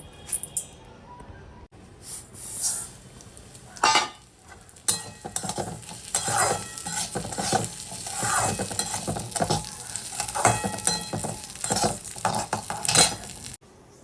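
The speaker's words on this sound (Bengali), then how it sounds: "ডালটাকে ভেজে তারপর ধোবো এটা হচ্ছে সোনামুগের ডাল" Sonamung dal dry-frying in a pan, stirred steadily: continuous close scraping and rattling of the lentils against the metal, with a soft sizzle and occasional sharper clinks throughout.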